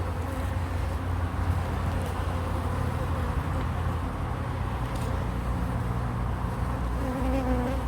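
Dense, continuous buzzing of many honey bees close by at an open hive, a steady drone with low rumble underneath.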